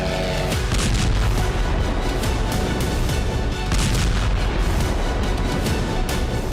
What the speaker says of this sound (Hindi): पोल्टावा में जबरदस्त धमाके हुए हैं।